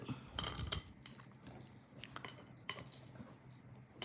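Seeds clatter into the wooden pits of a Pallanguzhi (Vamana Guntalu) board, a faint, close run of small irregular clicks and taps with quiet pauses between drops.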